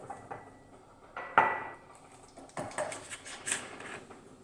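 Utensils clinking and scraping against a bowl while cake batter is mixed and stirred, a light irregular patter of close metallic taps and knocks with quiet gaps between them.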